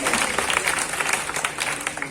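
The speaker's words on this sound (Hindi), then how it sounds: "कृपया ताली करके आप सभी" Outdoor Dussehra Ramlila audience claps along in a dense, rhythmic burst supporting the child performers, with faint voices mixed beneath the steady clapping.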